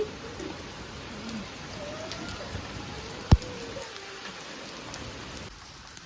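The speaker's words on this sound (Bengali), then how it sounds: "প্রচণ্ড পরিমাণে বৃষ্টি চলে এলো আকাশে পুরো বৃষ্টি" Heavy rain pouring down outdoors during a storm in Durgapur, a steady dense hiss with one sharp knock partway through and faint birdsong in the background.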